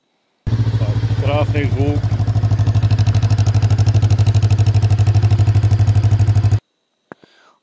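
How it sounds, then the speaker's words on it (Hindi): A Jawa 500 Retro Scrambler motorcycle with a roughly 500 cc engine idles at close range, its exhaust a loud, steady low thumping pulse lasting about six seconds before it cuts off, with a person briefly speaking over it early on. "और इसका एग्जॉस्ट साउंड काफ़ी बढ़िया है"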